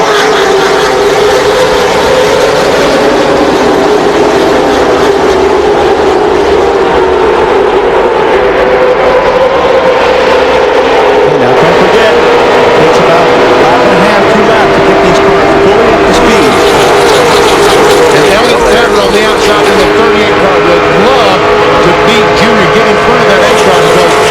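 Stock cars at the 2004 Daytona 500 roaring past in a dense, loud pack, engine drone rising and falling continuously, with a commentator talking over it throughout.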